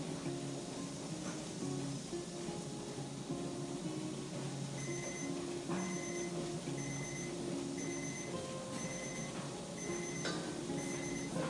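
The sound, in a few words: kitchen timer beeping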